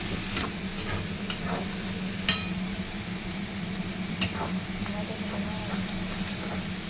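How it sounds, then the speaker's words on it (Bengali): Onions fry in a pan for a chilli chicken dish with a steady sizzle, while a spatula stirs them and knocks against the pan in occasional sharp clacks. "এটাকে ভালো করে নাড়িয়ে দেব। অল্প ভাজার পরই দেখুন যে পেঁয়াজের একটু হালকা রং এসছে।"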